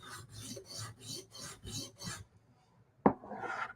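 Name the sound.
sharpening a knife bevel on a stone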